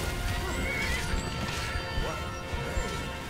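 A horse whinnying in the Skyrim video game during a fight with a Hagraven, heard amid dense battle noise with crashing impacts, hoofbeats and clattering effects.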